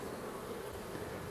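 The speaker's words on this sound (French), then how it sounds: "Il y a des abeilles" Honeybees buzzing on a hive frame during a spring hive inspection, forming a steady, dense drone that fills the moment evenly and close, with no voices over it.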